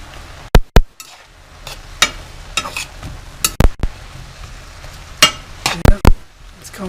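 Vegetables sauté in a pan for a plant-based meal, with a soft background sizzle broken by sharp, irregular clinks and scrapes of a utensil stirring against the pan.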